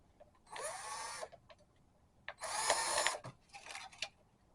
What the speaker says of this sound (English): I'm using this little 20 volts drill